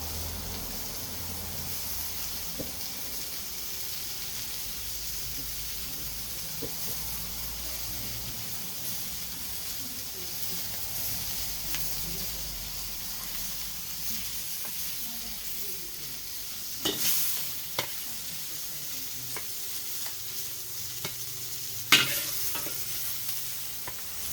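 Beef in oyster sauce stir-frying in a wok gives a steady, moderate sizzle and hiss for the whole stretch, broken by a few sharp clanks of a utensil scraping and stirring near the end.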